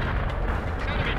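Artillery booming in World in Conflict, one heavy, sustained blast that fills the short moment with deep rumble.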